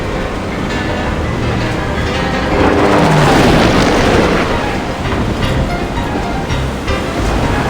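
Stormy ocean waves in the video game Reverse 1999, a loud continuous roar of crashing surf that swells in the middle and holds throughout.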